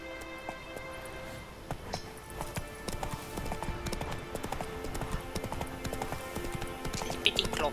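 Horse hooves clip-clop in The Witcher 3 game, a steady run of close, crisp hoofbeats carrying on through the whole stretch with a faint whinny near the end.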